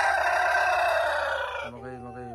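A red village rooster gives a loud, drawn-out call that drops into shorter, lower clucks near the end, close by, with a human voice mixed in.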